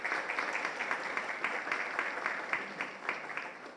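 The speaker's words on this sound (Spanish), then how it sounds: "Natasha von Leppel y Fernanda González, que también pido un fuerte aplauso." A faint, distant round of audience applause rises at an academic legal panel. The clapping comes in soft, regular pulses under a low, hazy background.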